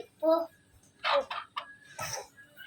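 A few short, separate clucks from chickens close by in a coop, with a quiet voice in between and brief pauses.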